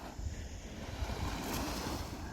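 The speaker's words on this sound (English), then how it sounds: "I just sat down for 20 minutes and just watched the waves coming in" Ocean waves wash steadily onto a beach, a broad continuous surf hiss with gentle swells, mixed with wind buffeting the microphone; no talking.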